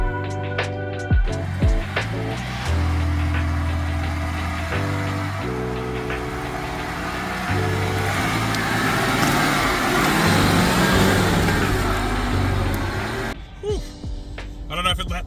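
A Toyota LandCruiser 100 Series crawls over a log on a tight off-road bush track with both lockers engaged. Its engine drones loud and close, with shifting revs and a few knocks and thumps from the body and suspension.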